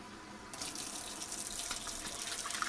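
Water gushes from a kitchen tap, starting abruptly and then running steadily and loudly, as warm water is drawn for bread dough. No speech is heard over it.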